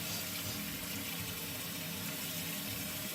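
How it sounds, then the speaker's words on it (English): Tap water runs steadily into a kitchen sink as it fills, a constant close rushing and gurgling stream with no talk over it. "my water is going into the sink pretty good"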